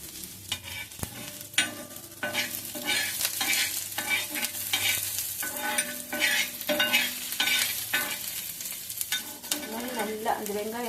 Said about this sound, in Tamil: நல்லா அந்த வெங்காயம் செவந்து போகணும், அந்த அளவுக்கு நல்லா வறுத்துக்கணும்.